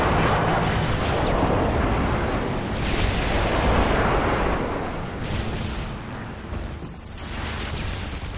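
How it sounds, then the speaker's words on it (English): Friendly airstrike explosions rumble through a military shooter game as a continuous, heavy low roar of blasts and crackling debris, loud and dense throughout without distinct pauses. "Friendly airstrike on the way."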